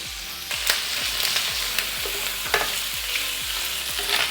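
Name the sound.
octopus pieces dipped in olive oil sizzling on grill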